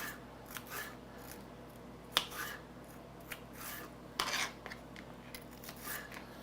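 A knife slices small pieces of vegetables on a cutting board in a kitchen. There is a steady run of soft scraping cuts and a couple of sharper knocks against a faint hum.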